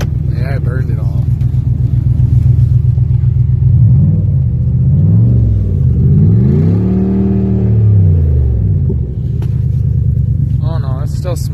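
An old car with a smoking engine idles with a rough, loud rumble, then revs up and down several times in rising and falling swells before settling back to idle, with a person talking briefly at the start and end.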